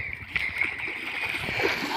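Water splashes and gurgles in a shallow stream among stones, close and continuous, with small irregular splatters.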